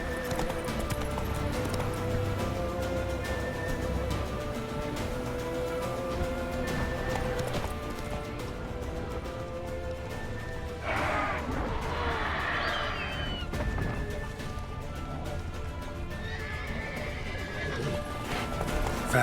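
Roach, the horse in The Witcher 3, gallops with a steady drum of hooves, and a loud neigh rises partway through over game music and ambience.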